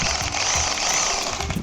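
Concrete screws driven through wooden sash-frame battens into concrete for an aluminum window frame in a work shed, a continuous near, loud rattling whir from the driver with no pauses.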